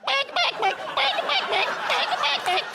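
A man sings a line of a song entirely in loud, continuous clucks and bawks, imitating a chicken with his voice in a rhythmic, song-like run.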